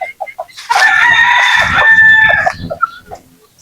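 A young gamecock stag, tied on a tether, gives one loud close crow that lasts about two seconds, with soft clucks just before and after it.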